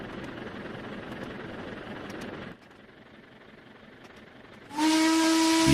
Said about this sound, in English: Now, this should be a whistled crossing.